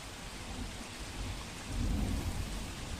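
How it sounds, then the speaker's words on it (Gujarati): Steady heavy rain pours down in Nakhatrana taluka, Kutch, with a low rumble of thunder building partway through, a continuous wash of noise with no voices. "અંગિયા મંગવાણા અને સાંગનારામાં વરસાદ વરસ્યો"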